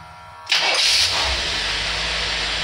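Engine fitted with a Ford Autolite carburetor cranks and fires up, catching with a sharp burst then settling into a steady, loud, smooth idle close by with no talking.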